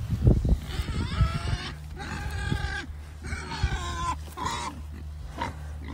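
Pigs fed organic vegetables root and eat close by, giving repeated loud squeals and grunts in short bursts, with a steady low rumble underneath.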